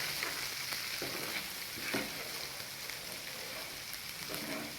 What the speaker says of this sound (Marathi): आता हे वाटण आपल्याला तेल सुटेपर्यंत परतून घ्यायचे.